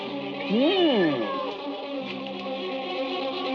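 A cat meows in a long rising-and-falling cry in a Hindi action film scene, loud and near, followed by a steady hum of background sound.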